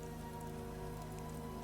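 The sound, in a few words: rain falling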